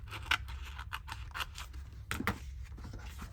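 Pointy scissors poking a hole through paper for a paper craft project, heard as several close, crisp snips and rustling crunches in an irregular rhythm over a low room hum.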